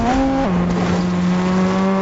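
An Audi race car from Fortnite Rocket Racing, a loud close engine drone with a pitch that drops sharply as it shifts, then holds steady, with tire squeal blended in.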